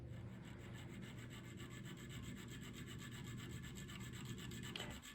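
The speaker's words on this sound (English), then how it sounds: "So this is the initial filing of the saw teeth shape." Filing saw teeth into the blade of a handmade jab saw, a continuous rasping rub with steady strokes at close range, fairly quiet and without talk.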